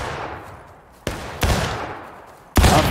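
Gunshots in War of Rights, a Civil War era musket game: three sharp broadband cracks with decaying tails, near and loud, separated by quieter pauses.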